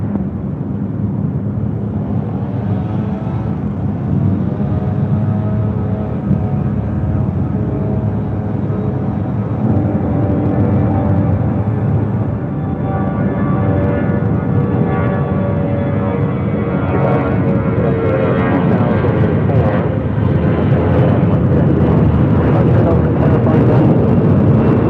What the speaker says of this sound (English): Delta A319 now departing, taking off on 6 right.